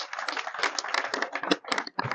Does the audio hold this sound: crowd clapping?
yes